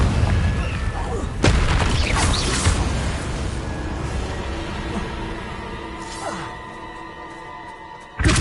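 Confringo blast spell in Hogwarts Legacy, a sharp loud burst that rings out and fades, followed by a second impact and a sudden hit at the end, with a voice speaking over the game sounds.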